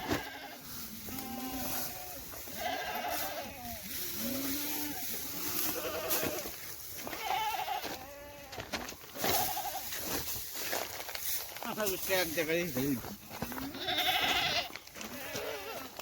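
Several goats bleat repeatedly in a farmyard at morning as they are let out, wavering calls overlapping one another at close range over steady background noise.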